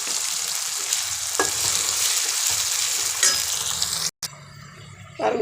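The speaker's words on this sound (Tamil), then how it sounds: "இப்போ தக்காளி போட்டுடுறேன்" Tomatoes sizzling in a hot pan for a milk vegetable pulao, a steady frying hiss with scraping stirs, a brief cutout, then louder sizzle resuming.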